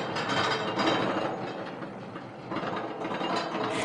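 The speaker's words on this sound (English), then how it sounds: "a typical roller coaster uses a motorized system called a chain lift to take the train to the" A roller coaster chain lift pulling the train up the hill, a steady mechanical clatter of ratcheting links and rolling wheels, moderately loud and continuous, with no talk.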